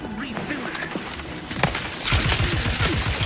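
Gunfire in The Outer Worlds 2, a sci-fi shooter: a single sharp crack, then a dense run of rapid shots that keeps going to the end, mixed with a talking voice.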